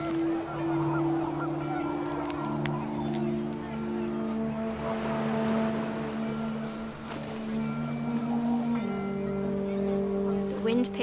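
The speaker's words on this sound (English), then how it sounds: "panicked geese appeared and quickly went" Panicked geese honk in the video game What Remains of Edith Finch, a wavering chorus of overlapping calls against wind, heard continuously under a voice narrating.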